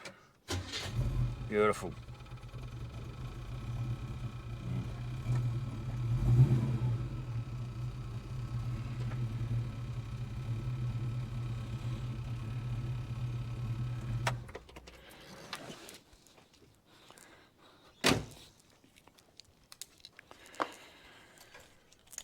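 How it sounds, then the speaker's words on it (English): Holden HK car engine cranking, catching and idling with a steady low rumble for several seconds before shutting off, followed by scattered clunks; someone briefly speaks. "let's see how she starts straight off the key"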